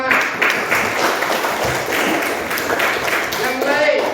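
Classroom applause with many hands clapping, a dense sustained patter from start to finish, with voices of a teacher and students mixed in.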